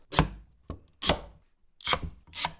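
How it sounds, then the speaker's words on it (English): Glued wooden pieces rubbed together to spread the glue while making a drum sander block, giving five short scraping strokes in an uneven rhythm, close and fairly loud with quiet gaps between them. "I'll rub it together a little bit to spread everything out."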